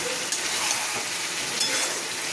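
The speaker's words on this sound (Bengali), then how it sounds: "মাছ ভাজাটা এর মধ্যে দিয়ে দিলাম।" Fried katla fish pieces sizzle in a pan of cooked-down spice masala for doi katla, a steady close crackling hiss with no talking.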